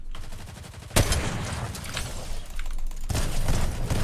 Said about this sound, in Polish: Skąd on strzela?